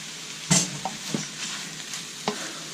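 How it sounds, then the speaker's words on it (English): Ground beef returned to a sauteing pan with vegetables, a soft continuous sizzle broken by a few sharp utensil scrapes and clacks as it is stirred, close and alone. "we're returning the ground beef back into the sauteing pan with the vegetables here"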